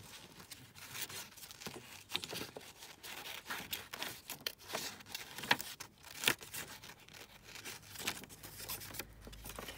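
Paper pictures for a junk journal are cut out by hand, with continuous close rustling, crinkling and snipping. The paper is handled steadily, with soft scrapes and a few sharper clicks.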